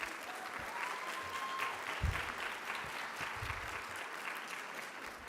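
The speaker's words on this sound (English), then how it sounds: "give them a round of applause" An indoor audience at a physician assistant white coat ceremony gives sustained applause for family and friends, a dense, even patter of clapping heard from within the crowd.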